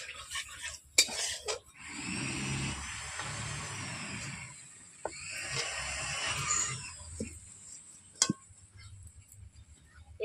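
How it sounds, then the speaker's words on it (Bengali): A spatula stirs turmeric and chili powder into fish curry in a pan, making two long bursts of scraping and sizzling with scattered metallic clinks in between. "খুঁটি দিয়ে এইভাবে নেড়ে দিচ্ছি"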